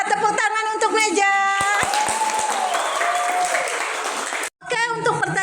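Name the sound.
classroom applause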